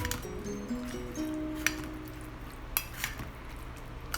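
Utensils mixing a rice and legume salad in a bowl, soft squishing stirs with a few sharp clinks against the dish, close and fairly quiet.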